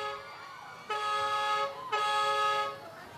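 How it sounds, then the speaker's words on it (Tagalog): Two long, steady honks of a car horn, each about a second, loud and fairly close, separated by a short pause over faint background noise. "Bumubusina pero hindi bumababa, Tinidora."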